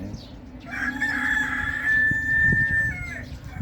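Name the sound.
chickens raised at home, rooster crowing and clucking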